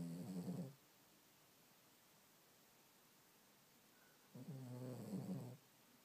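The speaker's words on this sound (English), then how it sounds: "Peanut is snoring." A sleeping pet snores in two slow, rasping breaths, one at the start and another near the end, with a quiet pause between them. The snoring is close and soft against faint room hiss.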